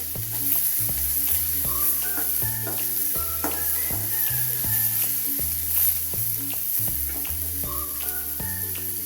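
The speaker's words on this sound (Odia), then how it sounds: "ପିଆଜ ଟିକେ ଭାଜି ହେବା ପର୍ଯ୍ୟନ୍ତ ତାକୁ ଭାଜିବା।" Onions fry in oil with a constant bright sizzling hiss, heard under loud background music with a steady melodic beat throughout.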